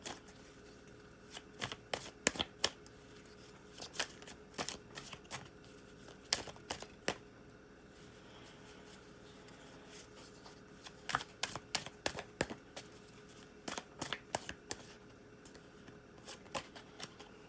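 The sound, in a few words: tarot cards being shuffled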